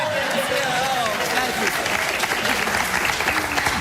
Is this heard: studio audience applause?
yes